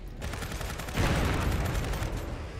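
Cannon fire in the real-time strategy game Iron Harvest comes as a rapid volley of sharp booming blasts, with a heavier impact near the middle, among dense battle noise and no voices.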